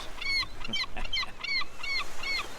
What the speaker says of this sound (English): Even all the birds.